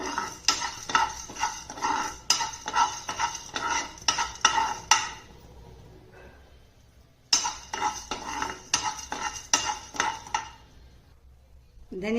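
Chana dal and urad dal dry-roasting in a pan, a spoon stirring steadily with rapid scraping clatter against the metal, a brief pause midway before the stirring resumes, close and fairly loud.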